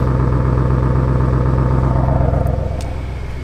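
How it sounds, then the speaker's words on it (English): An Audi RS7 idles in RS mode with its exhaust opened, a loud, close, steady rumbling burble that eases slightly toward the end. "I'm going to open up the exhaust and this is as loud as it's going to get if you ever want to rev it"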